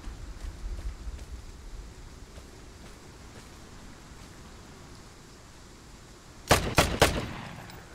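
Gunfire in the video game Vigor: after a long stretch of faint hiss, three sharp, loud shots ring out in quick succession near the end, with no talk over them.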